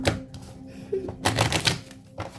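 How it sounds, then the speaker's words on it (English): Tarot cards being shuffled by hand, close, crisp rapid riffles and taps in short bursts, with quiet pauses between. "I'm shuffling. I like to shuffle them this way too"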